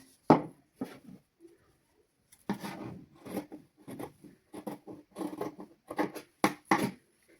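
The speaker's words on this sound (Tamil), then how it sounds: "இப்போ நாங்கள் இது வந்து கட் பண்ணலாம்." Scissors cut cloth for a baby's summer dress in short, rasping bursts of snipping, close and crisp, with brief pauses between strokes and a faster run of cuts near the end.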